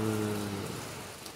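Rain falls steadily on a farm, a soft, even hiss of drops filling the air while a low background hum fades away.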